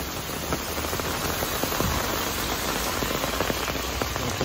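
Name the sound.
heavy torrential monsoon rain in Mumbai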